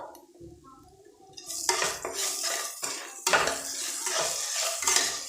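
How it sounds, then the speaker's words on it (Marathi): Green chillies are sautéed and stirred in a pan, starting quietly before a burst of sizzling and repeated metallic scraping and clanking of a spatula against the pan, close and fairly loud. "दोन मिनटं याला परतून घ्यायचं याला दोन मिनटं असंच भाजून घ्यायचं"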